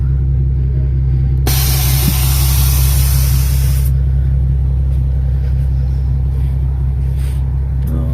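A Nissan 370Z's air suspension vents air in one loud, sharp hiss lasting about two and a half seconds, then cuts off abruptly over a constant low engine rumble.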